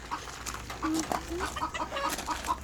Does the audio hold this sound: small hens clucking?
yes